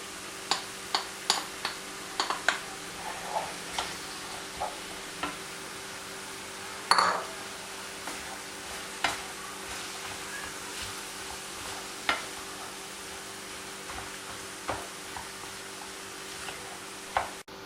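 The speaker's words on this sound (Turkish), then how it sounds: "Biraz yağımı ekliyorum. Ardından da soğanlarımı ekliyorum." Onions frying in oil in a pan, a faint steady sizzle with scattered small pops and crackles and an occasional utensil knock, close but quiet, no one talking.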